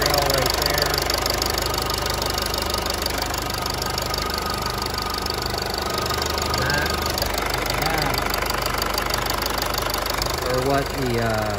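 A 2014 Mercedes-Benz GLK250 BlueTEC diesel engine idles with a steady clattering knock, close and constant throughout with no talk.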